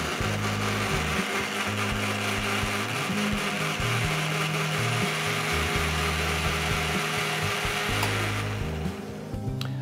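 An electric blender whirs steadily while mixing a home-remedy mixture with two spoonfuls of olive oil, its motor pitch wavering and stuttering as the load shifts, loud and close, then winding down at the end.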